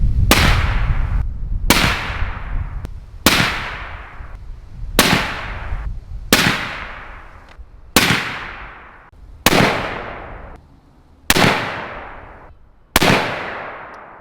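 Suppressed 450 Bushmaster rifle shots from a GSL Bushman series suppressor on a 308: nine loud, sharp reports spaced roughly 1.5 seconds apart, each tailing off in a short echo, with no talk.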